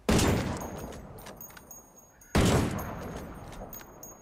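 Two loud rifle shots in the game Into the Wildlands, each a sharp crack followed by a long echoing decay, about two seconds apart, with no voices.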